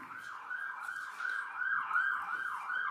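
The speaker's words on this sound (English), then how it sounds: "1 second until the sirens go by." An emergency siren passes outside, its wailing tone rising and falling in a regular rhythm, moderately loud and steady over a background of low traffic noise.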